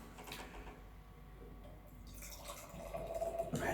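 Beer poured into a tulip glass at a tasting, a soft liquid trickle and drip that grows fuller and louder toward the end, close by with no voices.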